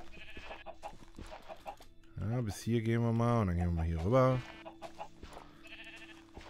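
Sheep in the video game Minecraft bleat in a run of wavering, nasal calls mid-clip, loud and close, with someone speaking German before and after.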